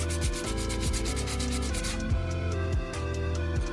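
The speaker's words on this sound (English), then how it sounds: "I'm gonna sand it down with this sandpaper" Sandpaper rubbed by hand over a Mercedes-AMG C43 brake caliper in steady back-and-forth strokes, a close, continuous scratchy rasp with no talking.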